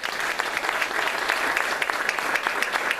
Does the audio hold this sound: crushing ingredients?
no